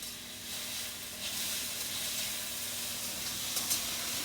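Onions sizzle in a hot frying pan, a steady bright hiss of frying with a few soft stirring scrapes, close and continuous with no talking.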